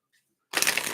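After a moment of near silence, a burst of crisp papery riffling starts up close, the rapid flutter of tarot cards being shuffled.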